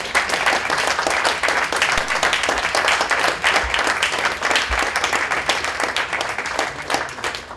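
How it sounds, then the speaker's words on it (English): Sustained, dense audience applause fills an awards ceremony hall, steady and even for several seconds with no break. "So if you can approach with a big applause by the audience"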